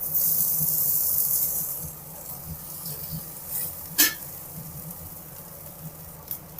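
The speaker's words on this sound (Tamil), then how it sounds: "நான் வேக வச்சு வடித்த சாதம் நல்லா ஆற வச்சுட்டு இது கூட சேர்த்துக்கிறேன்" Cooled boiled rice being stirred into a coconut mixture for coconut rice, a soft, continuous scraping and shuffling with a few brief louder clinks, close up and without talk.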